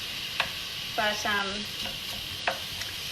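Onion softening in a frying pan for chicken spinach pesto pasta gives a steady low sizzle, broken by a few brief stirring scrapes and a short spoken word.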